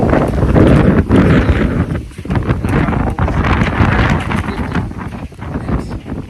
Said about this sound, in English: Like 50-mile-per-hour winds.